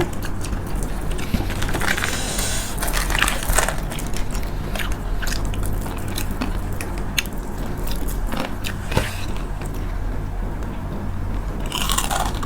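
Crisp, crackly crunching from close bites and chewing, repeating in irregular bursts with no talking.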